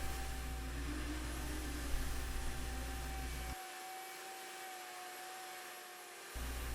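A router spinning in a woodworking shop as it cuts the curved cavity for a tail vise in a wooden bench, a steady loud whine with a broadband roar that drops partway through when the cut pauses, then resumes.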